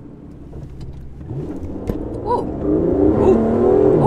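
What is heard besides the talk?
Aston Martin car accelerating on takeoff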